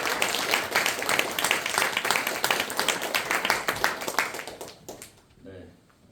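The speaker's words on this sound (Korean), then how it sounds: "먼 길 오셔서 말씀 전해주신 우리 공효선 목사님께 다시 한번 감사의 박수." A church congregation gives a pastor a sustained round of applause at an Easter worship service, dense clapping filling the room for about five seconds before fading into a brief quiet voice.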